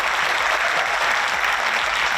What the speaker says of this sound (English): So everybody give a big hand and applause for them.